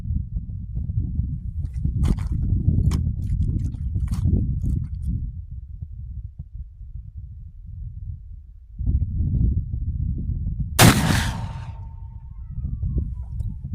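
A 45-90 Rolling Block rifle is fired outdoors: one sharp, loud report cracks near the end after a long stretch of low wind rumble and faint scattered clicks, then trails off briefly.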